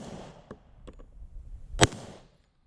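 A single sharp gunshot at an outdoor shooting range, fired one-handed, rings out loudly amid fainter distant pops and soft background noise, then fades away.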